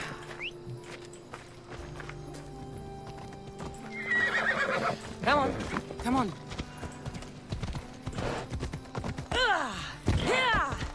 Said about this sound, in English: Get a horse, hop on the road.